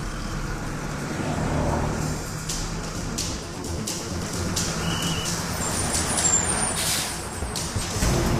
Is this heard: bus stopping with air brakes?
yes